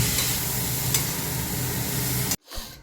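Bitter gourd and shrimp fry in a pan with a loud, steady sizzle under occasional stirring scrapes, then the sound cuts off abruptly as the pan is covered, leaving a faint muffled hiss.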